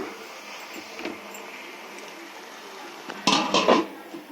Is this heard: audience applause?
no